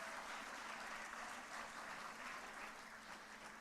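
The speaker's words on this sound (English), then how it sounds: "Can we have a huge round of applause for the school toppers?" Steady applause from a crowd at a school annual day, a dense continuous patter of clapping heard at a distance and fairly faint.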